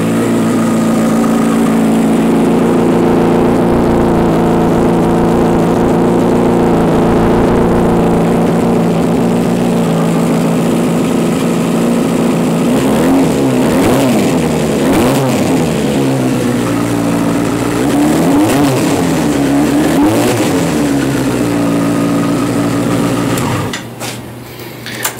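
A 2009 Yamaha FZ6 Fazer motorcycle with 160 miles on it and a cold engine idles steadily and close by, its engine note rising and falling in a few short revs before cutting off near the end.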